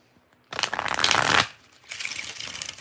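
A deck of tarot cards being shuffled: a brief quiet pause, then a loud riffling burst of about a second, a short lull, and a second softer stretch of rustling cards close by.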